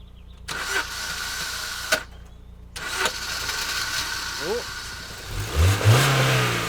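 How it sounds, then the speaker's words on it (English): An engine idles and revs in an inexpensive used first car, with rising rev surges near the end over a steady low rumble; people talk around it. "Don't rev it too much."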